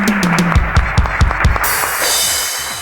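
Several sharp, distinct claps ring out in a quick rhythmic burst on a TV game show, then give way to a steady hiss.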